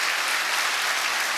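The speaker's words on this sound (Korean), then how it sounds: "한번 응원의 박수 보내주시면 고맙겠습니다" A church congregation applauds together, a dense, steady wash of clapping at even loudness throughout.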